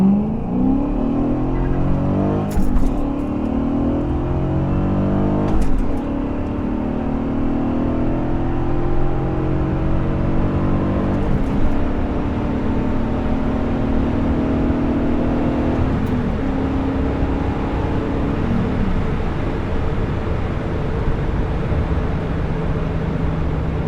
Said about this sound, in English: now we'll do a hard takeoff without spinning the tires, which again, that hard shift to second gear